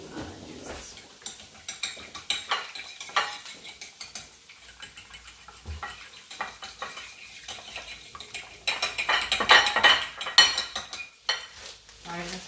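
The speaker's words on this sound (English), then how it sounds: "I'm going to whisk that." A fork whisks a mixture in a bowl for smoked mozzarella potato cakes with tofu, giving quick clinking taps and scrapes against the dish that grow louder and busier near the end, with a little talk.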